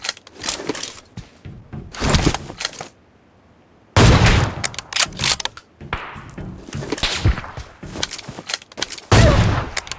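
Bursts of rapid automatic gunfire in PUBG Mobile, loud and dense, firing in several long volleys. A brief near-silent gap falls before the shooting resumes, and metallic casing clinks ring out between shots.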